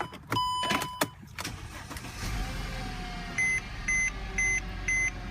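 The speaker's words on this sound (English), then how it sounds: "Let's turn on the car to make sure we don't get an error." A Mercedes C-Class engine cranks and starts with a couple of sharp beeps, then settles into a low idle while a chime repeats four times in an even rhythm.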